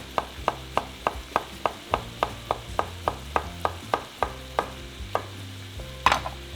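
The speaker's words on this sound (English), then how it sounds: "The other vegetable that's going in here is some zucchini. So I'm just gonna half moon these and give them a good slice." A knife slices zucchini into half moons on a cutting board, making a steady run of about twenty crisp, evenly spaced chops. A slightly louder knock lands near the end.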